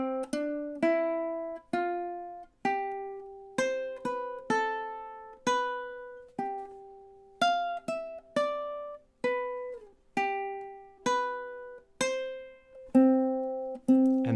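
Ukulele plucking the folk melody 'The Marmot' slowly, starting from a pickup bar and working through the repeats: single clear notes picked one at a time in a steady, unhurried rhythm, close and soft, each ringing briefly before the next, with no talking.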